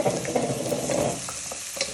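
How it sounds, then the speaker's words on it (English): Carrots and peppers, with onions and garlic, are stirred in a hot frying pan, giving a close, steady sizzle broken by light scraping strokes. "You want to give these a little bit of a stir"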